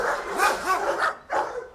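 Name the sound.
dogs barking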